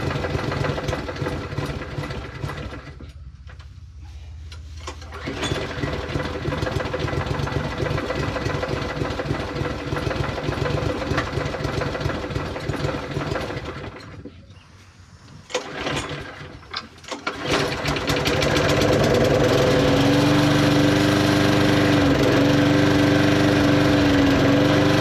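A modified lawn mower engine runs close and loud with a rattly, mechanical chatter, dipping and surging in a couple of spots before settling into a steady, higher-revving drone.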